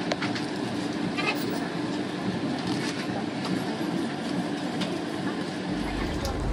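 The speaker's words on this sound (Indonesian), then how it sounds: "Ada kereta inspeksi." A green inspection train rolls past near Cirebon station, a continuous heavy rumble and rattle of rail traffic heard close, with faint voices in the background.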